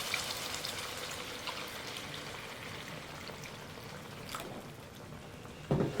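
Water poured into a butter sauce for a seafood king crab boil, a faint continuous trickling and bubbling liquid sound, soft and steady, with a clunk at the end.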